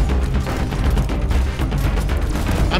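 Enemy mortar fire in the video game Deep Rock Galactic, a loud, dense barrage of overlapping blasts and rumbling explosions filling the whole stretch without a break.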